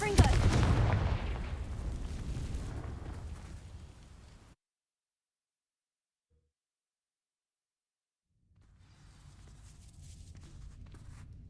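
A Confringo fire spell from the video game Hogwarts Legacy detonates in a loud, booming blast that rumbles and fades over several seconds, then drops to silence before faint room ambience returns.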